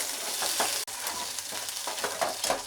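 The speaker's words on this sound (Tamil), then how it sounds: "இது போட்டதுக்கப்புறம் இதை லேசாக வதக்கி கொடுக்கணும்" Chopped herbs sautéing lightly in a pan for a herbal kuzhambu, a steady soft sizzle with scraping stirs and one brief sharp tap, close and continuous with no talking.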